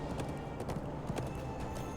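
Horse hooves clip-clopping in a steady rhythm while riding in the online game Lord of the Rings Online, moderately loud and continuous over a dense background, with no talking.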